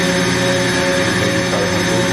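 The spindle of a 2003 Mori Seiki GV-503 five-axis CNC vertical machining center spins at 5,000 RPM with a loud, steady whine and a constant mechanical drone, alone and unbroken.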